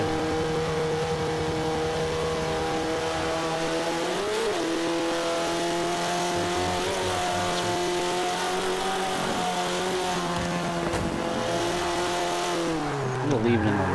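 A B class car in Forza 5 accelerates hard, its engine revving up through repeated gear changes with rising and falling pitch, loud and steady throughout, with faint tire squeal.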